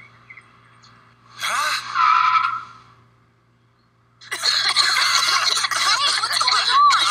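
Cartoon skid from a small toy-like mini car: two bursts of squealing, screeching tire noise, a short one early and a longer sustained one at the end, with a brief spoken interjection before.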